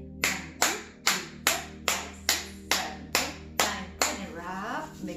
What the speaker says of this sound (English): So clap 10 times.